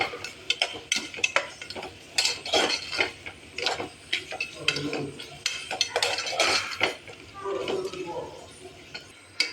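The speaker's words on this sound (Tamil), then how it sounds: "பிரியாணி மசாலா தூள் சேர்த்துட்டு நல்லா ஒரு முறை கலந்து விடுங்க" Biryani masala powder being stirred into frying oil for a soya-chunk biryani, a spoon scraping and clinking against the pot in quick irregular strokes, close and fairly loud, with faint kitchen clatter in between.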